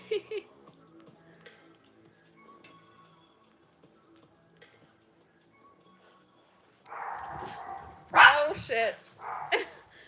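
Dogs bark and yip in a sudden loud flurry near the end after a long quiet stretch, several sharp close barks overlapping, with people talking and a voice swearing nearby.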